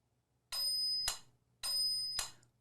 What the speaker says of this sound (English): I'm going to put the metronome on with the little bell ringing on the first beat of every bar